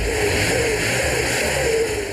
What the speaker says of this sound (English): hears what the supercharger has done to the engine.